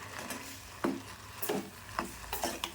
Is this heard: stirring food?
yes